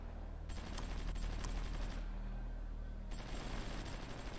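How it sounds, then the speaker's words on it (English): Naval bombardment in the strategy game Supreme Ruler Ultimate, a steady rumble of distant gunfire with scattered sharp reports, continuous and fairly loud throughout with no talking. "There's some enemy ships or something over here that is doing bombardment on the artillery."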